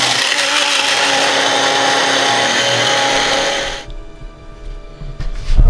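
Spices for puerco pibil ground finely in an electric grinder, a loud steady whirring buzz that cuts off abruptly partway through, followed by quieter clatter and handling.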